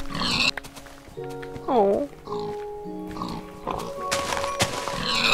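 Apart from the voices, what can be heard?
pigs oinking in Minecraft video game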